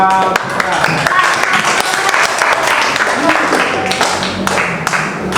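A classroom full of students breaks into sustained applause, dense rapid clapping that carries steadily from start to finish with a few louder individual claps standing out.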